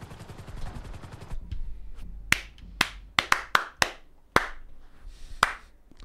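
Sharp sync claps ring out, about eight distinct hand claps spaced irregularly and loud and close, following a brief burst of rapid rattling noise at the start.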